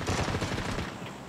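Rapid automatic gunfire in PUBG, a dense close burst of shots in quick rhythm that fades slightly toward the end.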